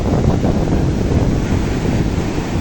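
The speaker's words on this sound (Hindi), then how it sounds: "समंदर की लहरें इस वक्त बहुत ज़ोर आवर हैं" Strong sea waves surge and break continuously at Sandspit Beach in Karachi, a loud, steady roar of surf mixed with gusty wind buffeting close to the microphone, with no pauses throughout.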